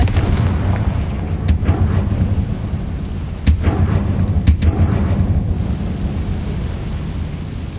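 Confringo spell explosions in Hogwarts Legacy: several sharp blasts over a loud, rumbling, storm-like roar.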